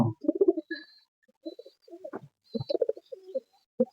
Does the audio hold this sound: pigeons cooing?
yes